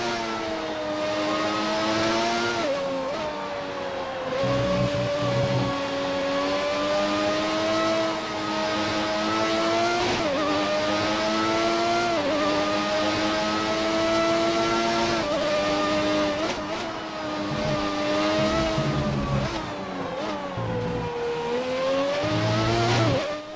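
A Formula 1 car engine in the F1 2019 video game screams continuously around a legends-era track. The high-pitched whine rises and dips as the car shifts gears, loud and steady for over twenty seconds with no talking.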